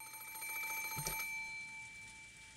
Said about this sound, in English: And we have phone call.